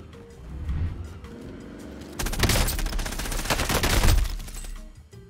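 Gunfire in a shooter video game, rapid bursts of shots building to a dense, loud fusillade in the second half before fading, with no talking.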